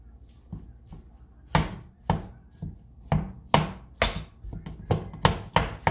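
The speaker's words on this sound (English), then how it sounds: "use a spatula and basically chop it all up and get it all separated" A spatula chops ground beef for chili in a pan, a series of sharp, knocking strikes at an uneven pace, close and fairly loud with nothing else heard.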